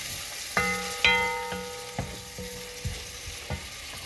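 Puerto Rican style beans cooking in a pan, with several sharp stirring clacks and knocks of a utensil against the pan over a soft sizzle, close and fairly quiet.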